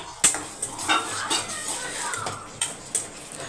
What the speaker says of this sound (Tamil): இப்போ இந்த பக்கம் வந்து நம்மளோட முருங்கைக்காய் மிக்ஸ் பண்ணி விட்டுருங்க